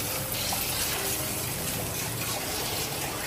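Fish being rinsed under a running tap, a continuous close gush of flowing water with a steady, even splash and no pauses.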